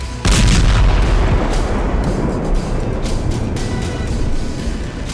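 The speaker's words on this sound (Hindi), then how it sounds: "बम धमाके से भरभरा कर ढहती बहुमंजिला इमारत।" A bomb blast brings down a multi-storey building in Gaza, opening with a sudden heavy boom and giving way to a long, rumbling roar of collapse that fades only slightly.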